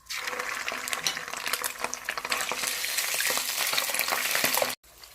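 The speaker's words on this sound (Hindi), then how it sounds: "और साथ में अदरक डाल देंगे। 1 से 2 मिनट तक फ्राई करेंगे।" Whole spices, cinnamon and black cardamom with ginger, sizzling steadily in hot oil for a bhuna gosht, a loud continuous crackle that cuts off abruptly near the end.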